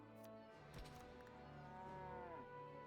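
Cow in the strategy video game Hexarchy lowing with a long, sustained moo that bends in pitch near the end, heard alone with no talking.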